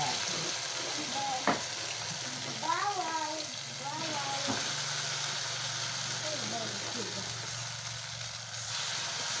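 Food frying in very hot oil crackles as a steady close sizzle throughout, with a voice talking over it in places.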